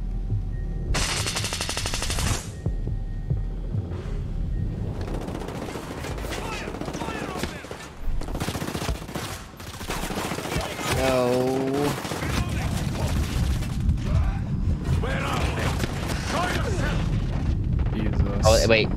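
Gunfire from Ghost Recon: Breakpoint, with dense bursts of automatic fire, single shots and heavy booms scattered throughout, loud and close, mixed with player voices talking over the action.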